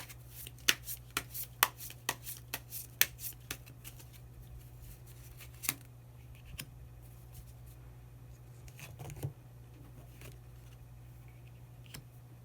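Tarot cards being shuffled and drawn, a run of crisp, sharp card snaps and riffles for the first few seconds, then scattered softer slides and taps over a steady low hum, close and fairly quiet.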